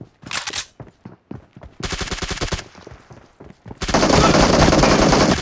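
Bursts of automatic gunfire in a shooting video game: a short volley, a longer rattling burst, then a dense sustained barrage at the end, all loud and close, with scattered single shots between.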